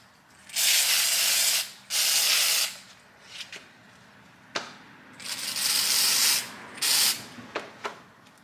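Several bursts of spray paint hiss close by as a Dollar Tree family sign is painted, some long, some short, separated by quiet pauses with faint clicks and handling noises.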